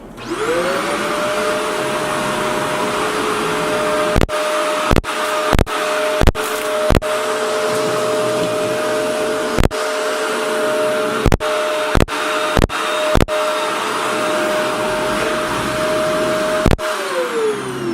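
A Shark vacuum cleaner runs on its middle setting over thin carpet, giving a loud, steady whine that ramps up at the start and winds down at the end, broken by a series of sharp clicks.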